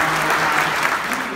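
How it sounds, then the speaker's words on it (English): A brief burst of audience applause, a steady, dense patter of many hands clapping at an even level for just over a second. "Give them another round of applause."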